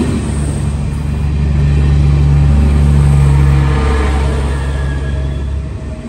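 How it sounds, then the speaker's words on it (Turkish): A train rumbles in close and loud at a station, a steady low roar that swells and then eases slightly as it pulls in, with no talking. "Bak tren geldi."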